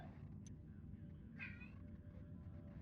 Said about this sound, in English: Cat in the background.